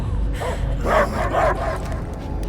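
A dog, Cosmo, barking in the Guardians of the Galaxy video game: two or three loud, close barks in quick succession over a low rumbling background.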